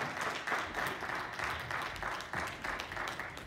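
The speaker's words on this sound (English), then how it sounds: "Would you please give a hand clap of praise for the Robertsons as they come forth." Steady applause from a church congregation, many hands clapping together in a continuous wash of claps that holds evenly throughout.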